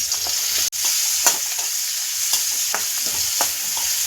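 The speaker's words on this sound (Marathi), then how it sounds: "जिरे व्यवस्थित फुलले की त्यामध्ये जो उभा चिरून कांदा घेतला होता तो आपण टाकून घेऊया।" Sliced onion drops into hot oil already frying cumin and turmeric, giving a steady close sizzle with scattered crackles and a few stirring scrapes, with no voices.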